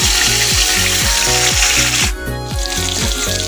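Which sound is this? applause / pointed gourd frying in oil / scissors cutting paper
pointed gourd frying in oil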